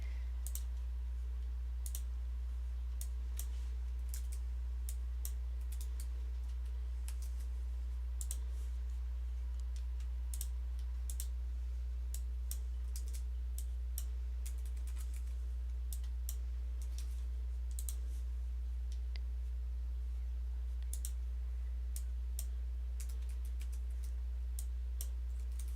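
Numbers being typed on a computer keyboard: scattered light key clicks in short irregular runs, faint and close over a steady low electrical hum, with no voice.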